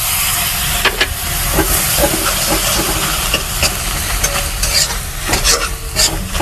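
Mustard paste fries loudly in a pan as it is stirred, a thick continuous sizzle and hiss broken by repeated scraping strokes of a spatula, close and without speech.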